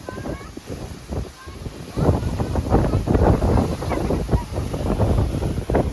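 Strong gusts of wind during a heavy rainstorm in Dayal village buffet the microphone in uneven, roaring bursts, while people talk close by.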